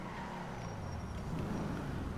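In a video game, a car drives past with a low, steady engine rumble and road noise, faint and fairly distant, swelling slightly toward the end.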